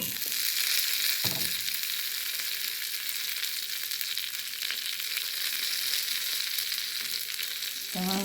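Garlic frying in oil in a pan with vinegar added gives a steady, dense sizzle throughout, close and continuous, with a sharp burst of spitting near the start as the liquid hits the hot oil.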